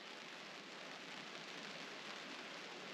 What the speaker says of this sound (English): I start hearing rain